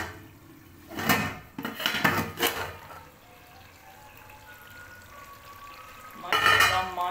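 A cooking pot of kachnar and chicken is handled and covered with its lid, with a few close metallic clanks and scrapes in two short bursts separated by a quieter stretch of low kitchen noise.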